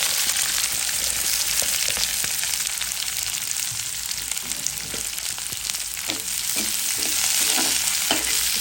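Dried chilies and garlic fry in hot oil as a tempering for a Bangladeshi flat bean and potato dish, making a dense, steady sizzle close by with soft stirring clicks scattered through it. No one speaks.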